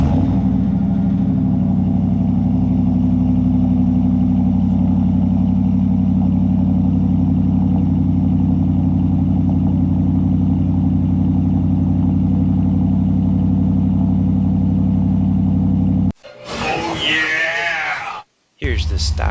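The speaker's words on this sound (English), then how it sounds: "And the Borla cold start." A 2019 Ram 1500 with a Borla S-Type exhaust cold-starts and settles into a loud, deep, steady idle rumble for about sixteen seconds before a short burst of other sound breaks in near the end.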